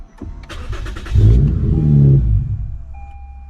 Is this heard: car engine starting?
yes